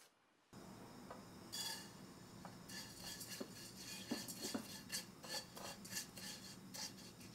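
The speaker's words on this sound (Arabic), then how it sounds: "طبعا بضل عم نقلب الشعيرية" Vermicelli frying in ghee and oil in a pot is stirred steadily, the spoon scraping and clinking against the metal over a soft sizzle, with close, repeated strokes.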